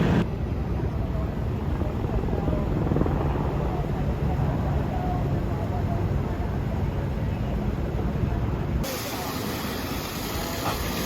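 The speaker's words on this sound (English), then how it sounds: "we got at least 4 police helicopters" A broad, steady whooshing roar of several police helicopters' rotors hangs overhead in Los Angeles, continuous and moderately loud, with a high whine above the rumble.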